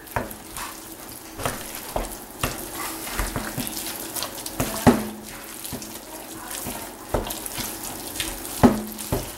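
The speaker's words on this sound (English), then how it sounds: "See, about 3/4 of that in right now, and we'll stir it around" A thick mixture gets stirred around in a container, giving a continuous wet scraping and sloshing with sharper knocks and clicks at intervals. The sound is close and steady with no voices.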